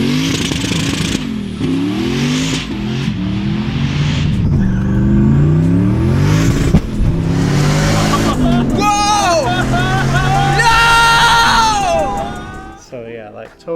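A turbocharged LS-swapped sleeper Volvo engine revs loudly and repeatedly, its pitch sweeping up and down through sharp blips before cutting off near the end, with people talking over the noise.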